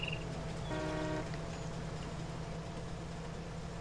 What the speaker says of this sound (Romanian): Claxonăm, da.